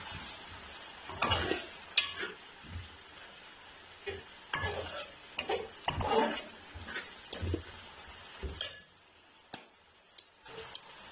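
Fish masala curry paste, roasted with kasuri methi and coriander powder, is stirred and fried in a pan: irregular scraping strokes and sharp clicks over a low sizzle, close and fairly quiet, with pauses between strokes.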